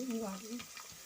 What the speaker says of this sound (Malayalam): അത് നമ്മൾ ഇതിലേക്ക് അണ്ടിപ്പരിപ്പും കൂടി ഇടുകയാണ് കേട്ടോ